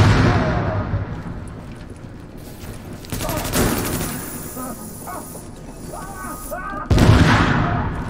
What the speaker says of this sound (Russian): когда они взрываются, эти баллоны у них.